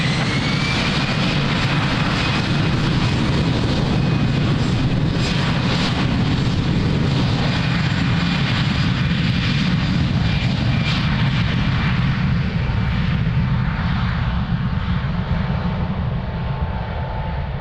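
An airliner takes off at Lisbon Airport, its jet engines a loud continuous roar that holds steady and then slowly fades as the plane climbs away, with no talking.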